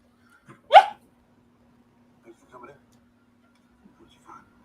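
A dog gives one sharp, loud bark, followed by a few faint, short sounds against a quiet background with a low steady hum.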